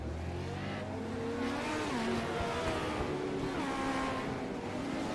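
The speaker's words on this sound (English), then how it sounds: "The whine of 8 of those little bitty engines in those tiny, tiny cars." Eight tiny Legends race cars, their small engines whining in a continuous loud drone on the short track at Hickory, with pitch shifting as the cars circle behind the pace car; no one speaks.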